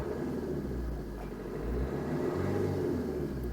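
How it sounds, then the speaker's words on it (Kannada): A Maruti S-Cross diesel engine idles with a smooth, steady, close low rumble and slight whir that holds throughout with no talking. "ಡೀಸೆಲ್ ಇಂಜನ್ ಐತಿ, ಬಟ್ ಎಷ್ಟು ಸ್ಮೂತ್ ಅಂದರೆ ಸ್ಮೂತ್ ಐತಿ ನೋಡಿರಿ ಸರ."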